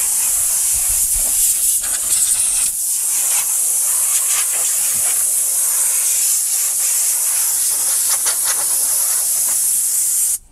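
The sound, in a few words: spraying into an engine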